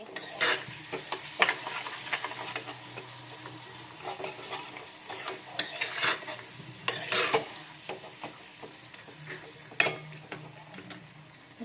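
A tomato mixture with salt and sugar stirred in a cooking pan, a steady soft sizzle under repeated scraping and clinking strokes of a utensil against the pan, close and continuous.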